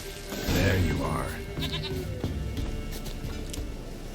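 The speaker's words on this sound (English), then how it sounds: "Here, goat." A goat in the video game The Witcher 3 gives a loud, close bleat, followed by quieter ambient game sounds.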